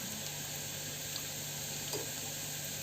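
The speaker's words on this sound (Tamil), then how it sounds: "இப்போ வந்து வெங்காயம் வணங்கிட்டுருக்கு நல்லா வணங்கிட்டுருக்கு" Onions frying in a pan, a continuous even hiss with faint crackles throughout and a steady low hum underneath, no talking.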